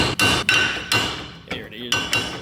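Hammer blows ring on car axle parts from a Toyota AE86, five sharp metallic strikes at an uneven rhythm, close and loud, each with a bright ringing tail.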